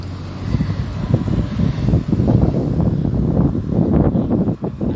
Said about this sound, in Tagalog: Sarap ng hangin. Lamig eh.